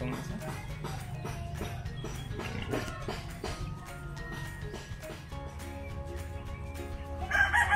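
Backyard chickens cluck in a busy hacienda farmyard in Pontevedra, Negros Occidental, Philippines, while a rooster crows, with a steady rhythmic background din and a louder burst near the end.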